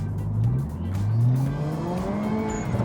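A Honda Civic FE with a slipping CVT transmission revs with a rising, droning engine note that climbs steadily over a few seconds, loud and close.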